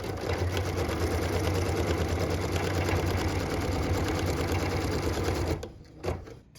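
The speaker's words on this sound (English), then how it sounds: "What we're stitching now is the tack down line for piece number 3." An embroidery sewing machine stitches a tack-down line on a hooped quilt piece, running a fast, even mechanical hum with rapid needle ticks for several seconds before stopping abruptly, followed by a couple of faint clicks.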